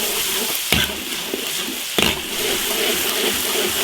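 Tomatoes stir-fry in a large wok with a steady loud sizzle, and a spatula scrapes against the metal twice.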